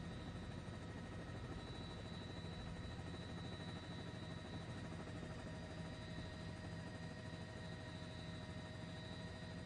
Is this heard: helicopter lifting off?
yes